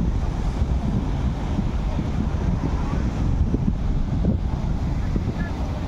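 A boat ride on the sea off a North Goa beach: a constant loud rush of wind and surf buffets the microphone over a low rumbling drone, with no breaks throughout.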